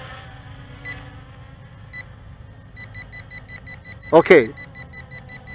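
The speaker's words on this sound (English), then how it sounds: "the beeping changed and then it went back" An X2 Pro3 GPS smart drone sounds a low-battery warning as a steady series of thin, high beeps during flight, over a low motor hum, with a brief spoken word from a nearby man.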